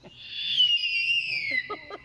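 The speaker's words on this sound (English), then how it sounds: "So all owls make a twit-true sound" A Verreaux's eagle-owl at a bird-of-prey show at a castle gives a high-pitched, shrill, drawn-out call that slowly falls in pitch, followed by a few short chirps, close and clear with no talk.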